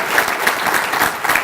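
A crowd at a Little Rock Touchdown Club meeting gives a round of applause for Cliff Harris. The clapping is brisk and dense throughout this brief burst, with no talking over it.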